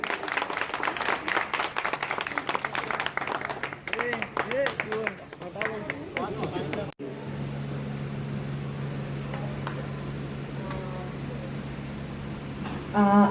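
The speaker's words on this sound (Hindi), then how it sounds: "फिर एक मरतबा हसन भाई के लिए जोरदार तालियां दें" An audience at a welfare trust gathering claps loudly for Hasan, a dense burst of applause lasting several seconds before cutting off into a steady hum with faint voices.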